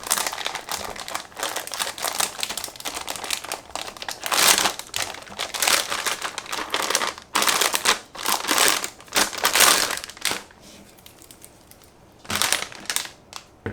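Crinkly plastic protective film wrapped around the shroud of an ASUS RTX 3070 KO graphics card being handled up close, loud bursts of crackling and rustling in quick irregular pulses with brief pauses.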